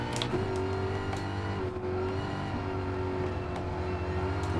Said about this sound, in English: Battle of the American muscle cars.